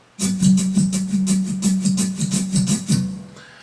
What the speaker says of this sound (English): first try practicing playing all of those 8 strokes like that.